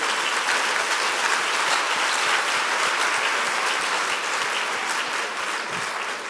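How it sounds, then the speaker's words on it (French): Dense, steady applause from an audience at an animation awards event, a continuous wash of many hands clapping at even loudness for the whole stretch. "on peut l'applaudir"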